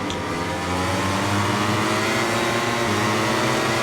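Racing motorcycles launch off the grid in MotoGP 21, a loud close roar of many engines rising in pitch together as they accelerate away, continuous and dense with no speech.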